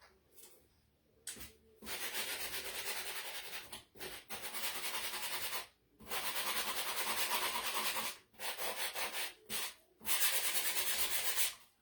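Sandpaper rubs back and forth across a painted spring decor piece in bursts of scratchy strokes, separated by short pauses, quiet and close.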